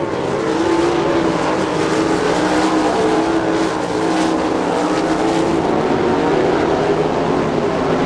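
Sprint cars race around the Attica, Ohio dirt track at an All Star Circuit of Champions event, a dense continuous roar of loud engines with rising and falling pitch as they circle, unbroken throughout.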